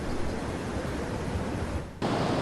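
Floodwater from streams swollen by heavy rain in Warangal rushes loudly and steadily, a dense broadband roar that dips briefly before surging back at full strength.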